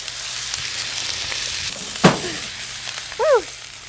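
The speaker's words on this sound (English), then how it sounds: "we're going to throw this lobster meat right in there" Lobster meat dropped into a pan of herb-flecked maître d' butter, giving a steady close sizzle with a sharp hiss burst as it lands, then continued frying with a brief squeaky scrape near the end.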